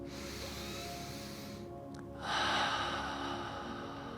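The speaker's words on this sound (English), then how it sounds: "let's take a nice long deep breath" One long, deep breath is taken during a quiet guided meditation: a soft, close, airy inhale swelling in the middle and easing out over a faint steady background hiss, with no talking.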